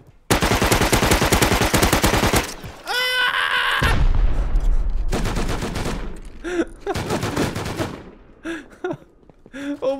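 Automated turret gunfire in the survival video game Rust, with rapid machine-gun bursts separated by short pauses, loud and close, mixed with booming impacts and other weapon sounds.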